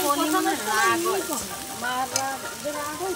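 Green peas (matar) fry in a pan with a soft, steady sizzle and stirring, partly covered by a wavering voice-like tone that rises and falls over the hiss.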